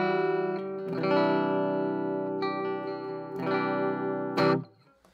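Clean electric guitar chords through an Orange amp's clean channel, tone controls at noon and modest volume, ring out and sustain, with a few new strums along the way before the sound cuts off at the end.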